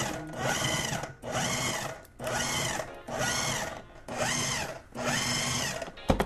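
A food processor pulses flour and butter for pastry dough in six loud, even bursts of whirring motor, each about a second long and separated by short pauses, with no talking.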